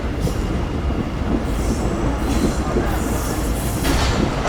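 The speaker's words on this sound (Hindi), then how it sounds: "9:55 तकरीबन ट्रेन हमारी अप्रोच बना रही है हैदराबाद जंक्शन रेलवे स्टेशन पर।" The Pak Business Express passenger train rolls toward Hyderabad Junction with a steady, loud rumble of wheels and carriages and faint rhythmic clatter, heard from on board with no talking.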